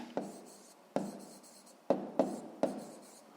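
Pen writing by hand on paper during a sixth-grade maths exercise, with five distinct scratchy strokes at irregular intervals over a few seconds, close and fairly quiet with no talking.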